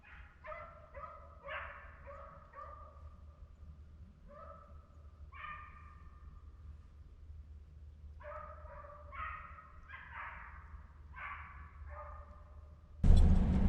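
Hunting dogs bark and bay during a South Carolina deer dog drive, giving repeated clusters of yelps and barks at moderate distance with short pauses between bursts, followed by a sudden loud burst of noise at the end.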